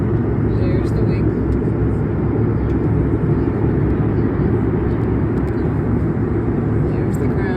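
Steady, loud airliner cabin drone at 32,000 feet while cruising above the clouds, a constant low roar with no change in level, and someone talking over it.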